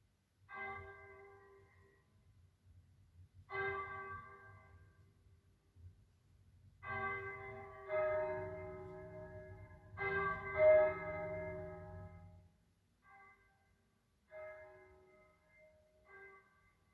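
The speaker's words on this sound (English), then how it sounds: "wonder why the church bells are ringing" Church bells rung by hand-pulled ropes on a foggy day, sounding in a series of separate clangs and short peals with pauses between, moderately close and ringing out alone without voices.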